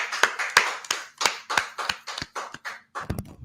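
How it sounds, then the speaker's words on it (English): A small group clapping on a podcast episode opening; about ten sharp, close claps in a loose rhythm, followed by a quicker flurry of claps and a low murmur at the end. "Everyone's clapping up real quick."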